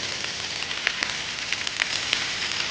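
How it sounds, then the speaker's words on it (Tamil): A fish wrapped in banana leaf fries in a little oil on a hot tawa, a steady close crackling sizzle with scattered small pops throughout. "வாழையோடு சேர்ந்து நம்ம சூடான தவாவில் பண்ணுறோம்"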